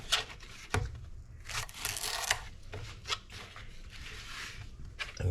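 A knife cuts through cucumber on a cutting board in a kitchen, with a few sharp taps of the blade hitting the board between bursts of slicing and rubbing, close up, no voices.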